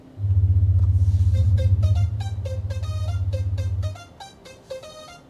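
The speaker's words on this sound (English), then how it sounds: "So what I'm going to do is lower the truck all the way down." A 2024 Chevrolet Silverado EV RST lowers its ride height: a steady loud low hum from the air suspension runs for about four seconds, while a series of repeated electronic chimes and beeps plays over it and continues after the hum stops.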